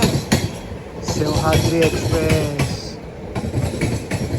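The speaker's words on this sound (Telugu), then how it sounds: "సింహాద్రి ఎక్స్ప్రెస్ అయితే వెళ్ళిపోతుంది" Simhadri Express bound for Guntur rushes past near Krishna Canal Junction, its wagons clattering with rhythmic clickety-clack and occasional wheel squeals, heard loud from an adjacent moving train.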